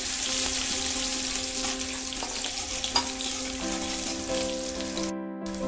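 Shallots and garlic fry in hot oil in a pan for a Kerala-style upperi, a loud close bubbling sizzle with stirring and a faint ringing hum, then a sudden brief cut near the end.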